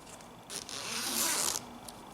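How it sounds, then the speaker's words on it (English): The zipper on a crocheted bag is zipped up in one quick, close, smooth pull lasting about a second, with a faint click at the end. "now I'm going to zip it"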